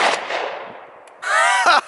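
A new Glock 20 10mm pistol fires outdoors, with a loud sharp report whose echo decays, followed a moment later by a second harsh burst.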